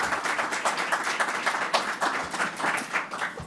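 An audience claps at a school board meeting, a short burst of scattered, moderately distant applause with overlapping hand claps and no talk.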